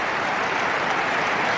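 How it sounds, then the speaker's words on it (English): A college basketball crowd at a 1997 Kansas versus Texas A&M game applauding, a dense steady wash of clapping and cheering filling the arena with no break. "Great effort from Tracy Anderson, and the crowd responded."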